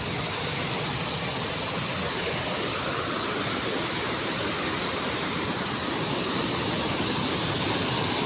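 Water pours over a spillway at Ban Ta Ngoi in Tao Ngoi district, a loud, continuous broadband rush that stays constant and close with no voices.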